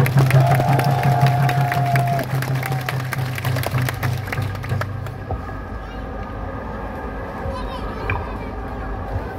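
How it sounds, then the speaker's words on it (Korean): An outdoor protest rally crowd welcomes the next speaker with applause and cheering, loud clapping over an amplified voice at first, then a thinner spread of claps and crowd murmur continuing after the voice stops. "박수로 맞이하겠습니다"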